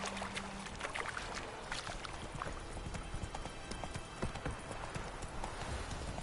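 Horse Roach galloping in the Witcher 3 video game, rapid rhythmic hoofbeats on the ground, steady and fairly close, with faint tack rattles and no other sounds over them.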